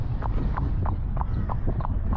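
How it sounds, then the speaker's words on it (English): Horse trotting on an outdoor hack, hooves clip-clopping in a steady regular rhythm of about eight close, clear strikes over a constant low rumble of wind or movement. "they're hacking, which is you just go for a ride with your horse. Trotting."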